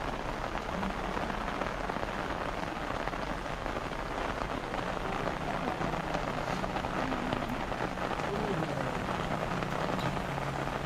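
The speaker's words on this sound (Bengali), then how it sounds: "সুদর্ণখালি ওয়াচ টাওয়ারের কাছে আসতেই বৃষ্টি শুরু হলো।" Steady rain pours down around a watch tower in the Sundarbans mangrove forest, a dense continuous hiss of drops on surfaces close by, lasting the whole stretch with no voices.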